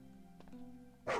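A single short dog bark from an RPG Maker game, fairly faint at first and then louder at the end over a quiet background hum.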